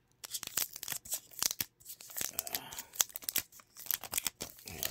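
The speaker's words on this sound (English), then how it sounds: "Take this out of the plastic." Plastic packaging is torn and crinkled off a newly unboxed Bold N1 product, giving a run of close, irregular ripping and crackling bursts with brief pauses between them.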